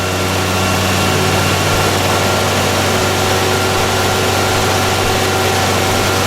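A four-stroke petrol engine running on a test bench: a loud, close, steady mechanical drone with a strong low hum and broad rushing noise, continuous throughout with no speech.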